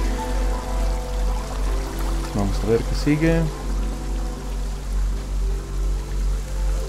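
Water flows steadily in the 2017 video game Rime as a loud, pulsing rush, while someone speaks briefly in Spanish over it.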